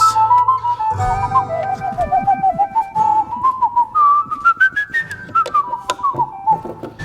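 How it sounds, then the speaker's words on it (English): A person whistles a lively, wandering tune up close, the melody rising and falling steadily with short breaths between phrases. "I need to work on my whistling skills."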